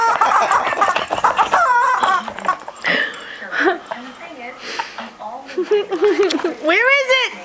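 A squeaky toy chicken squawks as a pug tugs at it, giving repeated warbling squeals in short bursts, loud and close, with people talking over much of it.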